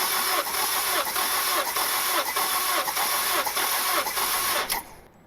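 A Honda Civic engine cranks over on the starter during a cold wet compression test on cylinder one, a rhythmic whirring chug pulsing steadily for about five seconds before stopping.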